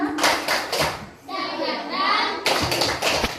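A group, likely schoolchildren, claps a quick rhythmic cheer pattern in bursts of sharp claps, pausing briefly between them, with children's voices chanting along.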